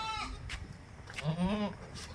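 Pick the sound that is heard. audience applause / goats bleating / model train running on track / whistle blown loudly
goats bleating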